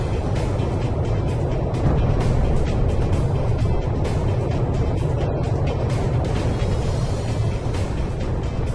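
Jet aircraft taking off in the video game Ace Combat 6, a loud continuous roar with rumbling lows and crackling bursts, steady throughout.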